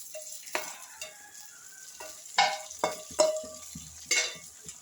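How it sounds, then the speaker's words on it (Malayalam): Fried mustard seeds, curry leaves and onion are tipped into a chicken curry, giving a faint sizzle with a handful of sharp spoon scrapes and stirring knocks against the pan. "ഇതിനെ ഇറച്ചിയുടെ മുകളിലോട്ട് ഇട്ട് കൊടുക്കാം"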